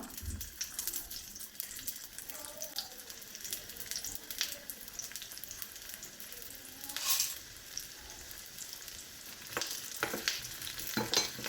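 Four or five chopped small shallots fry in a tablespoon of coconut oil, making a soft, steady sizzle with occasional louder stirring scrapes, fairly quiet and without talk.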